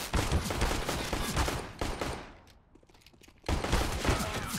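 Rapid gunfire in a CS:GO tournament match, loud bursts of shots filling the first half, a brief quieter lull with scattered pops, then another loud burst of fire.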